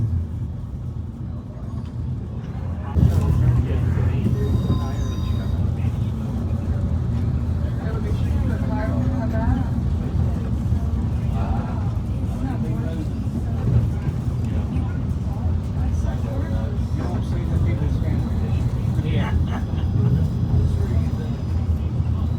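A Tennessee Railroad Copperhill Special passenger train runs with a continuous low rumble heard from on board, under steady talking throughout.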